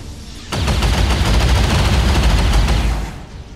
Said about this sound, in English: And we're gonna burst fire here.